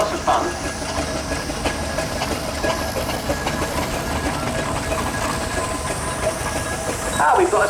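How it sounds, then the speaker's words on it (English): An 8-ton full-size steamroller steam engine on steel tyres moves about a country show arena, giving a steady rumbling, clanking rolling noise with hiss bursts near the start and end, heard outdoors without clear talk. "We've got a second steamroller that's joined us now."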